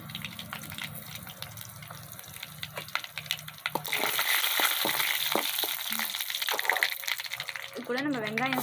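Dried red chilies fry in hot oil with mustard seeds and cumin for a drumstick flower poriyal. A soft sizzle carries sharp spoon clicks against the pan, then the sizzle swells louder midway while the stirring continues.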